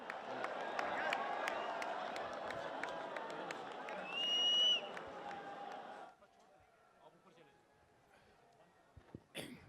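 A large crowd at the opening ceremony of the 34th National Games 2023 applauds to welcome Prime Minister Shehbaz Sharif, a dense rolling wash of clapping for several seconds that fades, with an announcer's voice over it.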